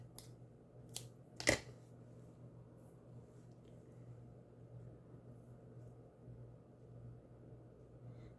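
Scissors snipping during a nature craft project, a couple of quick faint cuts followed by one louder sharp snip, then a steady low hum with no talking.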